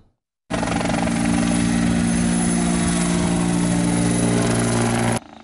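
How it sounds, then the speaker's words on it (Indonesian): A water-bombing helicopter fighting a peatland fire in Jambi roars loud and close with a steady rotor and engine drone that starts abruptly after a short silence and cuts off near the end. "Sebanyak 3 helikopter dikerahkan untuk memadamkan sejumlah titik api."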